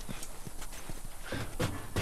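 Donkey hooves clip-clopping in The Last of Us, a quick irregular run of sharp hoof knocks close by, a faint grunt or snort near the end, with no speech over them.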